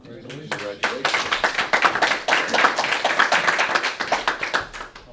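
Clapping at a town selectmen meeting: a steady run of hand claps from a small audience, fairly close and lively, lasting several seconds with voices mixed in.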